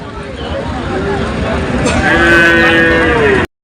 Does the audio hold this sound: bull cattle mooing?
yes